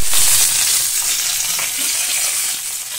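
Bhetki fish frying in oil in a home kitchen produces a steady, loud, close sizzle with a bright hiss that runs unbroken for the whole stretch, with no voices.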